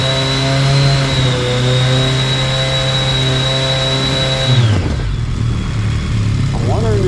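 A 2006 BMW K1200GT motorcycle with a Delkevic exhaust idles at a steady hum, then is revved to 4,000 RPM, rising sharply into a throaty roar and falling back, loud and close.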